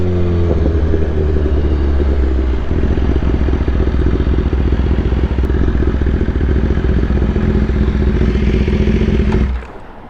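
A motorcycle is ridden with a loud, steady engine drone and road rumble close to the rider, holding level for about nine seconds before dropping away abruptly at the end; no talking.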